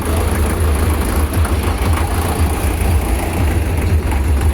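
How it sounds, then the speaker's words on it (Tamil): A diesel tractor engine runs steadily and loudly up close, a deep low rumble with constant vibration that sounds laboured, with no talk over it. "டீசலாக வண்டி திணறுது."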